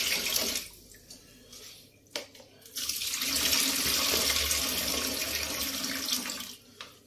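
Water pours in a steady broadband rush for several seconds after a few short splashes, fairly close, with no talk over it.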